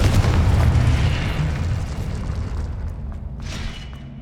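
A Confringo spell explodes in the video game Hogwarts Legacy with a heavy, rumbling boom that fills the space and slowly fades, followed by a smaller burst near the end.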